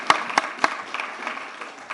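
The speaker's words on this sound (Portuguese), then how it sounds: "Mas dê um aplauso ao Senhor de verdade, irmão" A church congregation claps in a few sharp, separate bursts, three distinct claps near the start followed by lighter scattered clapping over a low room murmur.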